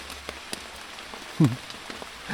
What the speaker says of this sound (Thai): นั่งหลบฝนอยู่นี่